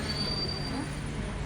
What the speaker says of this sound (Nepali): ठ्याक्कै ट्रेन पनि रोकियो।